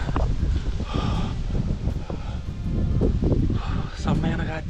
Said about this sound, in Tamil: செம்மையான காற்று.